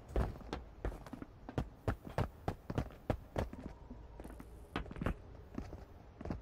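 Player footsteps in a space pirate raiding video game, a steady series of close, distinct steps with occasional gear rustle, alone without talk.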